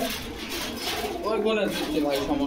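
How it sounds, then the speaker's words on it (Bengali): Pigeons, including Pakistani cross Giribaz birds, cooing in cages at a market, soft repeated coos in the background under close conversational talk. "এ জায়গায় কয় পিস কবুতর আছে মোটে?"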